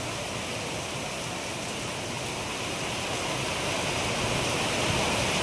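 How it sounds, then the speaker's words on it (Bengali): Heavy rain pours down in a dense, steady roar close by, the broad wash of water swelling slightly louder toward the end with no voices over it. "এত বৃষ্টি হচ্ছে।"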